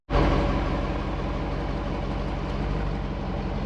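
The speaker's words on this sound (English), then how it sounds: "so we can have the V8 in the background" A Jeep Wrangler 392's V8 engine idles steadily with a deep, even rumble, exhaust in loud mode, that starts abruptly and holds constant throughout, close and fairly loud.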